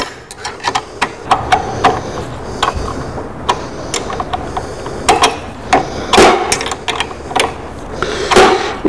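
A 13mm box wrench loosens armrest bolts, giving irregular close metallic clicks and ratcheting taps, some sharper and louder than others, scattered across a quiet room background.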